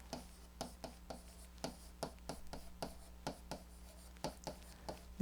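A pen or stylus writes on a screen or board in a close, quiet room, making a steady series of short, crisp tapping and scratching strokes with no talk.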